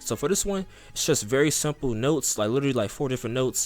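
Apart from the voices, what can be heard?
No everyday noise stands out behind the speech.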